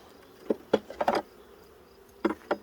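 Honeybees buzzing close by during a hive inspection among comb, several short soft bursts of buzzing over a quiet background.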